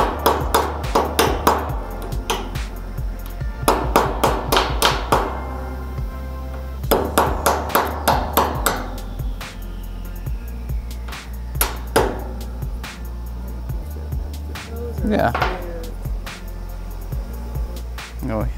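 Metal slag hammered off freshly cut steel during metal sculpting: bursts of sharp ringing hammer blows in rapid clusters, close and loud, with metallic pings between strikes.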